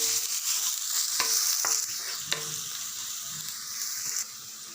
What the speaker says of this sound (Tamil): வெங்காயம் வதங்கி வர வரைக்கும் நல்லா வதக்கி விட்டுருங்க.